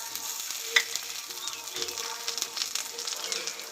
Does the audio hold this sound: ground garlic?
yes